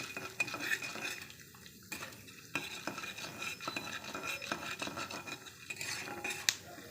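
Urad dal and sesame seeds dry roasting in a pan, with continuous scraping and stirring strokes and light rattling of the grains against the metal, close but fairly quiet, no talking.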